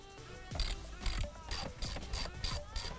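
Ratchet undoing 10mm nuts under trim on a BMW F30, heard as about six evenly spaced bursts of close, crisp clicking over a quiet background.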